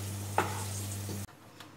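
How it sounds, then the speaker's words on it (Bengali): Potatoes browning in hot oil in a Bengali home kitchen give a steady close sizzle over a low hum, with one sharp utensil clink early on before the sound cuts off abruptly. "আলুগুলোকে একটু লালচে করে ভেজে নিই"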